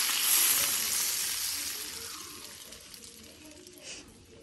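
Warm oil poured onto a mixed carrot, radish and chili pickle sets off a bright hiss and sizzle, loudest at first and then gradually fading, with faint clinks in the background.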